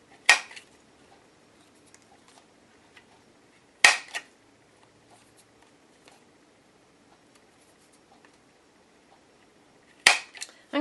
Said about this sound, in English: I punched a large hole in the bottom with my Crop-A-Dile